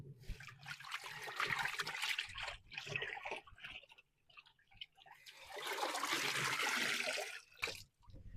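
Water running and splashing onto cement fabric laid edge to edge over real rocks, in two long bursts with quieter dribbling and trickling in between, close and fairly loud.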